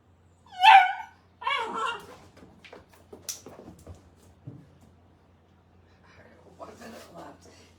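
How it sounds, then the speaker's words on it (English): Small dog whining and whimpering in short high-pitched cries, loudest at the start and then fading into softer whimpers, with a person talking quietly nearby. "Why are you so upset, little dog?"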